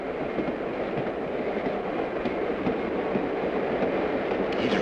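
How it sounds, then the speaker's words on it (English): A loud train passes close by, its heavy, continuous rumble and rolling wheel noise holding steady throughout with no voices over it. "The train. So loud, it confuses me."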